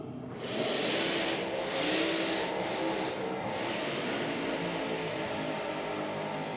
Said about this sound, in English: multiple stabs at the throttle there in the burnout for Pete Wheeler.